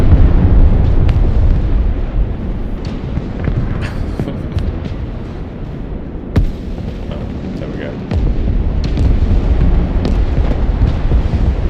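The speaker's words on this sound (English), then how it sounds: "we just hit it with a normal missile" A missile strikes a Patriot air-defense unit in the Broken Arrow war game, with rumbling explosions and sharp bursts over dense low battle noise that continues throughout.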